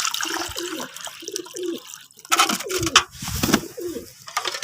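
Pigeons coo repeatedly in soft, throaty bursts at close range, with a gush of water or flushing noise breaking in midway and some fluttering mixed among the calls.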